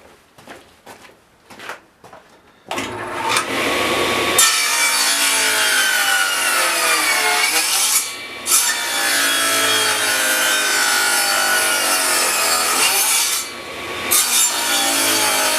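Ash wood is cut on a sawing setup after a few knocks and clatters, giving a loud continuous grinding rasp that runs for over ten seconds with brief dips.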